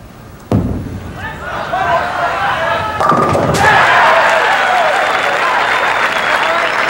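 Bowling ball at a 1982 professional bowling tournament, a sharp crash into the pins followed by scattering pin clatter, then loud crowd cheering and applause swelling, with commentators talking.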